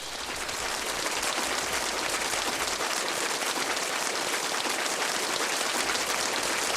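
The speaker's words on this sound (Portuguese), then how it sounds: "Salva de palmas." A steady round of applause, dense and even, fills the whole stretch at a constant level with no pauses.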